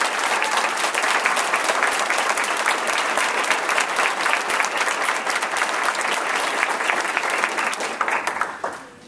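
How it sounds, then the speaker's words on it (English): Sustained, dense applause from a graduation ceremony audience, loud and steady for about nine seconds before fading at the end, with no talking over it. "Can we give those graduate speakers one more round of applause?"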